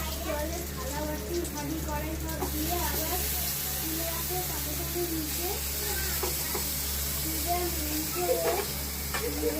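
Chopped vegetables and onion fry for a brinjal and egg omelette, a steady soft sizzle running continuously beneath a person talking throughout.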